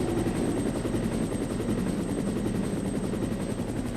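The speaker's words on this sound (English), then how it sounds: "Here he comes. Brad, the helicopter pilot." Helicopter arriving in the video game Resident Evil, a loud continuous rotor thump with a rapid regular beat and engine whine, steady and close throughout with no speech.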